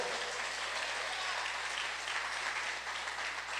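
A church congregation applauds together, a dense, steady wash of clapping that sounds fairly distant and soft, continuing throughout without talk.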